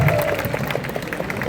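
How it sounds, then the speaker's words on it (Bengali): Audience applause at an iftar gathering with a state minister for education, a brief burst of steady clapping from a crowd filling the room at moderate loudness. "তার জন্য আপনাদের জন্য অগ্রিম একটা হাততালি হয়ে যাক"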